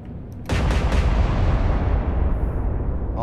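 Heavy naval turret guns fire in the Atlantic Fleet naval warfare game, a single loud, deep boom after a brief quiet start, then a long rumbling roar that slowly decays.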